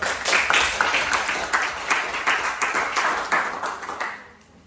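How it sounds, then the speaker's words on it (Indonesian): A classroom of students claps together in a steady, dense burst that holds for several seconds and then fades away. "tepuk tangan dulu"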